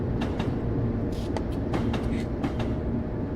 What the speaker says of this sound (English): Now we're going to release our train brake.